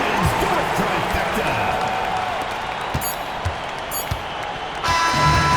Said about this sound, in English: So the home crowd happy here as they get the victory.